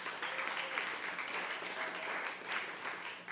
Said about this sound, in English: Round of applause for our storytellers.